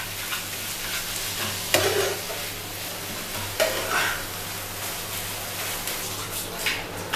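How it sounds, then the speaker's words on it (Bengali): Spice-coated rohu fish pieces are stirred into a frying mixture, a steady moderate sizzle with a few sharp scrapes and knocks of a spoon against the pan. "ওই মাছটা এবার আমি এর মধ্যে মিশিয়ে দেব ভালো করে"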